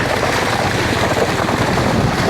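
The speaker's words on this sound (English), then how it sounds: "drop into a lower gear, just keep the engine running nicely, breaking the ice as we're going through" Honda CRF 300 L trail motorcycle wading through deep, icy water in low gear, a steady broadband wash of churning water and wind with the engine held running, loud and continuous throughout.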